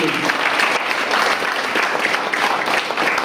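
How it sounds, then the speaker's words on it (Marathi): Loud, dense applause from an audience at a college lecture-series felicitation ceremony, sustained and even throughout with no break. "जोरदार टाळ्या वाजवून"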